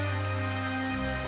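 Heavy rain pours down steadily outside a village house during a flood, a dense close wash of drops with no speech, though strong low steady tones also run beneath it throughout.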